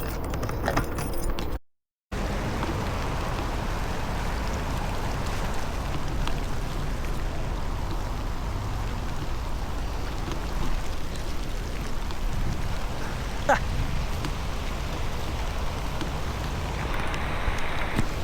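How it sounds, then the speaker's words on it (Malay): Heavy rain pours steadily in the open beside water where someone is fishing for snakehead, a dense, loud, continuous hiss with a brief dropout near the start. "Jadi sekarang ni hujan guys. Dan selepas tu lebat pula tu."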